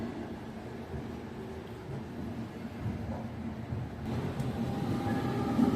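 Shaktipunj Express pulling out of Jabalpur Junction, a steady low rumble of rolling coaches and wheels that grows slightly louder toward the end, with no talking.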